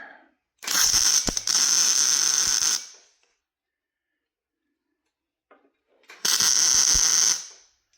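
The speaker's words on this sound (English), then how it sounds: "we're going to tack this corner and rotate that one to the same distance here" Two bursts of tack welding on a steel Jeep bumper, each about two seconds of harsh, buzzing crackle. Near and loud, they are separated by a few seconds of silence.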